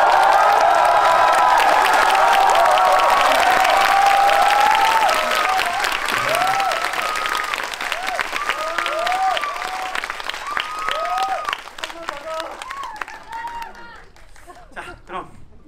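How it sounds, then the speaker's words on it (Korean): A packed cinema audience at a first screening of the film Hunt roars with cheers and sustained applause, loud and dense at first, then slowly thinning and fading toward the end. "크게 한번 함성과 박수 한번"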